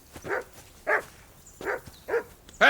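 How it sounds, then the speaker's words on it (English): Dog barks in the video game Kingdom Come: Deliverance 2, four short separate woofs spaced about half a second apart, moderately close and clear, followed by a sharper, louder sound at the end, with no talking. "What are you barking at?"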